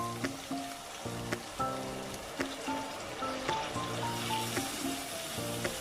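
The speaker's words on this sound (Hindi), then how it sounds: "अब हम इसमें पानी डालेंगे हिस्बे ज़रूरत।" Water poured into a pan of soaked, lightly fried rice for an amla curry, a steady splashing, trickling flow with background harmonic tones.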